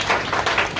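A church congregation claps in a quick, even rhythm, with a few loud overlapping hand claps filling a brief moment.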